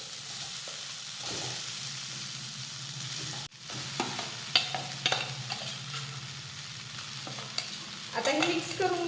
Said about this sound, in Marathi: मिरची परतून घेतली की आता यामध्ये घालूयात साबुदाणा, शेंगदाण्याचा कूट आणि मीठ